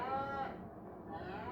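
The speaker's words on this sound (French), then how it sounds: "Ah, les veaux, ils vont bien, hein, nos petits veaux." Calves on a farm moo in one drawn-out, fairly close call.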